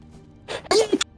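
A single human sneeze, a short breathy intake followed by a loud, sharp burst with a voiced tail, close to the mic in an otherwise quiet room.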